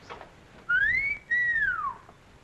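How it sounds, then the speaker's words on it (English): A person whistles two clear, sliding notes, the first rising and the second gliding down, close and alone against a quiet room hush. "Why did you whistle?"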